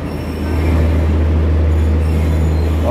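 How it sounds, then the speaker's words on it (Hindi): A Garib Rath express running between Anand Vihar and Varanasi, hauled by a Ghaziabad-based WAP-5 electric locomotive, passes close by with a loud, steady rumble of rolling wheels and a low drone. "आ रही है अपनी गाजियाबाद के WAP-5 लोकोमोटिव के साथ अपनी गरीब रथ"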